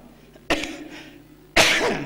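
A man coughs twice, close by, two sharp bursts about a second apart, the second longer and harsher, in a quiet indoor setting.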